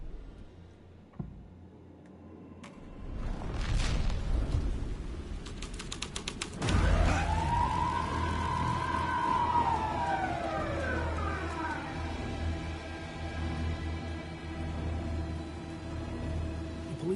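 A police car siren in the Alan Wake 2 video game: a single long wailing sweep rises and falls over mechanical rumble and creaking, after a few clicks and knocks, steady and moderately loud.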